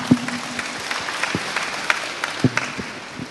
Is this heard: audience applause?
yes